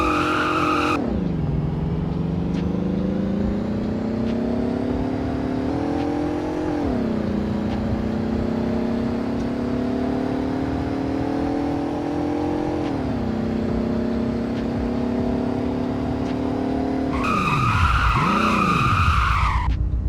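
Car in the Roblox game Greenville driving fast, its engine whining and climbing through gear shifts for about twenty seconds, with the pitch rising, dropping and rising again, and a final swooping rev and tire squeal near the end.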